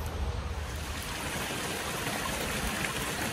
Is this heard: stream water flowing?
yes